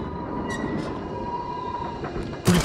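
A rail cart rolls through the dark in the VR horror game The Dark Pictures: Switchback, with a steady rumble under thin squealing wheel tones and a sudden loud burst of noise at the very end.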